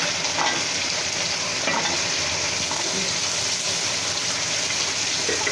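Potatoes and shrimp frying together in oil, a dense, loud and continuous sizzle close by, with faint stirring clicks underneath.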